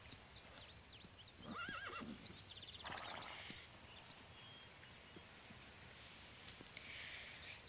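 A horse in a corral whinnies in short, bright bursts while hooves clip-clop at moderate distance, alone over a faint, steady background hiss.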